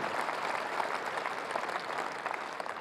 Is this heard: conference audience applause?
yes